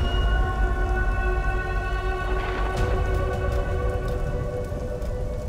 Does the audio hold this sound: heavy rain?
yes